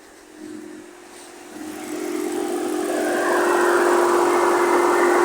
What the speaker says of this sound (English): This was the stock exhaust after the rebuild.